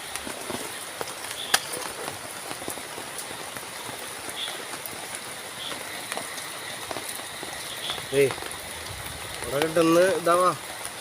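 Steady rain patters and hisses all around by a pond, close and continuous, with someone speaking briefly near the end.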